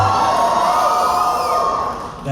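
An audience at a Black Veil Brides Q&A event cheers and shouts in a loud, sustained roar of crowd noise that fades slightly at the end.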